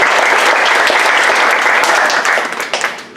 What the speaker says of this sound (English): all this applause is for you